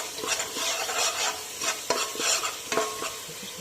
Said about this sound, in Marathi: सगळं मिक्स करूया.